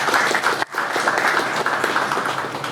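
Audience applause for the president at an end-of-year company get-together, a dense steady clapping crowd close by that breaks off briefly before resuming at full strength.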